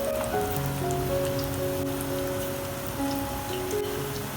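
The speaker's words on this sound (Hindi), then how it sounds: "ऑयल हमारा गर्म हो गया है, अब हम इसमें पकौड़े डालेंगे" Lachha potato pakoras fry in hot oil with a dense, steady crackling sizzle like rain on a surface. The sound fills the whole stretch at close range and does not let up.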